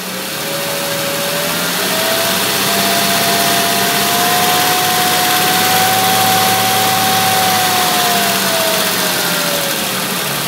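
A Jaguar XJS engine hums loudly and close, its pitch rising smoothly as it is revved, holding high for several seconds and then easing back down.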